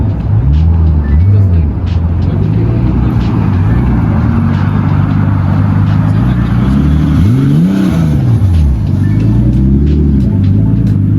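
A powerful car engine revs up and down repeatedly, loud and close, its pitch swooping in rising and falling arcs over steady rumbling idle.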